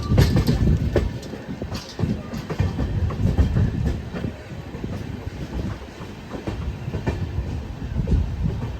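An LHB Jan Shatabdi train pulls into platform six at Shoranur Junction with a loud, continuous rumble and clattering wheels heard from on board, steady throughout.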